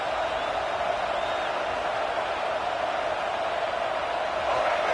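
A broad, steady wash of stadium crowd noise at a football game, many voices blending into a continuous roar without any clear words.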